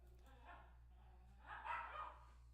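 Dogs bark faintly in the background of a quiet room, giving a short early bark and then a brief cluster of barks.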